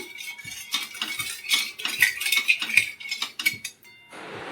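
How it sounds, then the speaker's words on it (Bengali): Guava jelly being stirred in a pot, a spoon scraping and clinking against the metal in a steady, uneven rhythm, close and fairly loud, with no voices. "এটা নাড়তে হবে সবসময়। এবার নাড়তে থাকছি।"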